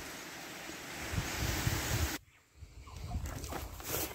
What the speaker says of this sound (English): It's getting windy. I can hear branches going.